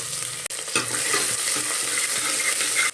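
Chopped large onion sizzling and frying in hot oil with cinnamon, bay leaf and fennel while being stirred, a steady close crackle for chana masala with scraping stirs throughout.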